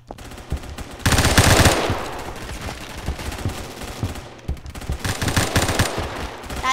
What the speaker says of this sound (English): That's my shotgun.